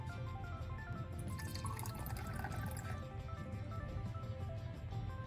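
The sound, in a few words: water poured into a small glass cup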